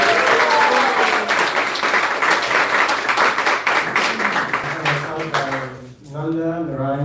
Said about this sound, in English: So I want a big round of applause.